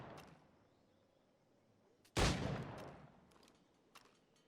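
A single loud shot in Assassin's Creed 4 Black Flag booms out midway, followed by a decaying rumble, while faint clicks and quieter game sounds sit around it.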